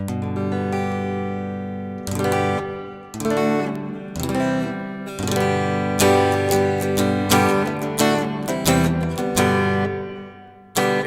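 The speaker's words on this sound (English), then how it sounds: "It's a nice reverb." Guitar chords and plucked notes ring out in short phrases through a Cubasis 3.4 reverb effect on iOS, each trailing into a lush, lingering reverberant tail between strums.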